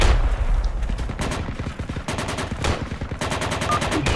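Sustained gunfire in the tactical shooter Project Reality, loud and close, with rapid bursts of automatic fire and repeated single shots overlapping over continuous battlefield noise, no voices.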